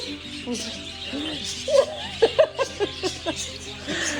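A bird at a zoo chirps in a short run of bright, separate calls, moderately close, amid background chatter and brief human vocal sounds.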